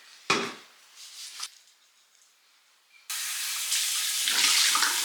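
Sink water running while oil cleanser is rinsed off a face, with brief splashes and shuffling at first, then a steady loud hissing tap stream for the last couple of seconds.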